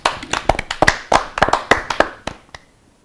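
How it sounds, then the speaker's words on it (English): A group of schoolchildren in a classroom clap together in a quick, loose burst of about fifteen sharp, close hand claps that slow and thin out before stopping. "Let's clap for ourselves."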